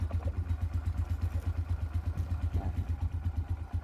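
A carbureted motorcycle engine, run eight months without an oil change, idles steadily with a low, even putter that continues without a break.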